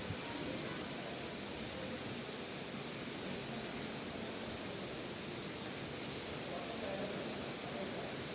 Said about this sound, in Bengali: বৃষ্টি এনজয় করতেছি